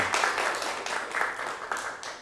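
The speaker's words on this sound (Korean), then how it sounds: "우리 세 분한테 박수 한번 부탁드리겠습니다" An audience at a Korean talk on multicultural families, led by comedian Jeong Cheol-gyu, claps for three people picked from the crowd. The applause is a moderate, steady patter of many hands, with small swells that fade by the end.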